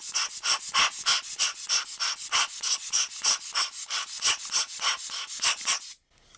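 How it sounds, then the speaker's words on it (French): Air repeatedly blown by mouth into a disassembled Nikkor 75-240mm zoom lens to clear dust: about twenty close, loud, rhythmic puffs in steady succession, stopping abruptly near the end. "quand j'ai soufflé, il a eu pas mal de poussière qui est sortie"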